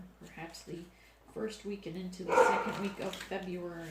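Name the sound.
dogs barking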